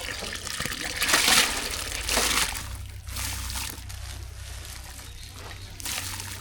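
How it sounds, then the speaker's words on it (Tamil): Washed lentils are tipped into a pot of hot water for sambar, making splashy, gushing pours in several bursts, fairly close and alone. "கழுவி வச்ச பருப்பை சேர்த்துக்கலாம்"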